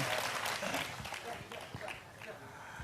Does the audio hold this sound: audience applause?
yes